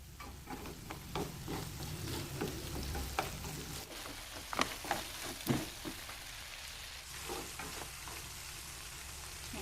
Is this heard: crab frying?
yes